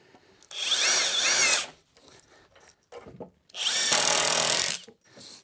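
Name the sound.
power drill driving screws into wood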